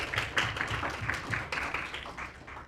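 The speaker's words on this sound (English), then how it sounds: "I want to give you start by giving you a round of applause." A graduation audience claps in a short, uneven burst of applause, moderately loud and close, with individual hand claps audible in a loose rhythm.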